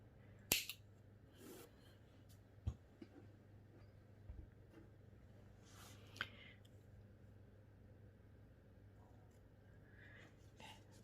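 Scissors snip through knitting yarn on a crocheted honeycomb-stitch bucket bag: a few quiet, sharp cuts spaced several seconds apart over soft room hush.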